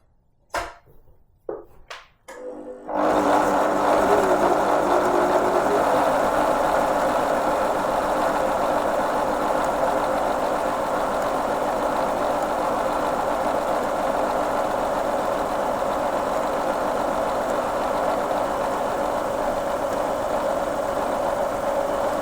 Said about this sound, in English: then we just press the pedal as though we're sewing, and it will wind it up.